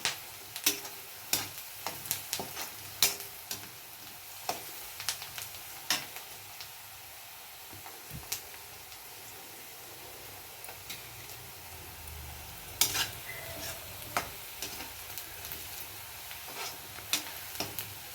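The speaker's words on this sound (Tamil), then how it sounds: "பாருங்க, வெங்காயம் வதங்கிடுச்சு." Onions sautéing in a pan give a steady low sizzle, with sharp utensil taps and stirring clicks scattered throughout, close up and with no talk.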